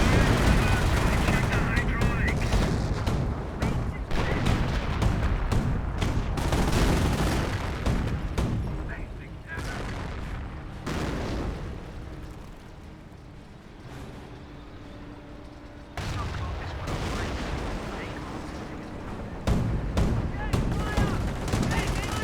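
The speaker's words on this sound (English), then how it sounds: "British Infantry 4 got the MG firing away" Sustained machine-gun bursts with shell blasts in a Company of Heroes battle, British infantry MG firing away amid artillery and flak, dense and loud throughout with a brief lull midway, under occasional commentary.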